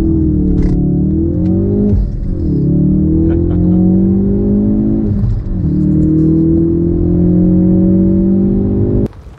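A Ford Focus RS in sport mode launches hard with launch control, engine roaring loud and close as revs climb steadily, with brief dips at gear shifts before pulling on again for several seconds.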